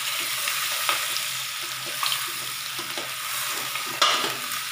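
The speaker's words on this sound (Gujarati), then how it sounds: "એ આપણે ઉપર એડ કરી લેવાનો છે અને સરસ રીતે આપણે હલાવી લઈશું" Onion and potato masala stuffing stirred in a sizzling pan, a steady frying hiss with soft spoon scrapes recurring about once a second.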